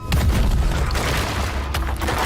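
A punch blasts open an extremely hard door made of a rare material, giving a dense, loud explosive boom with heavy low rumble that holds for about two seconds, with a second sharp burst near the end.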